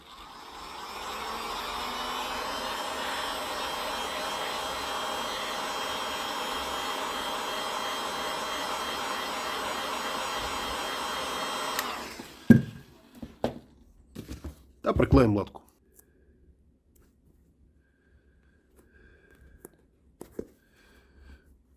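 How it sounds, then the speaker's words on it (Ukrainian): A hair dryer blows steadily for about twelve seconds, heating glue on a patch for a suede boot, then switches off, leaving a few handling clicks and knocks in near silence. "Нагріваємо феном."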